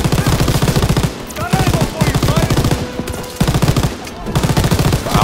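Mounted machine gun in a World War II Call of Duty shooter rattling off rapid, loud bursts, with brief pauses between long strings of shots and dense battlefield noise behind.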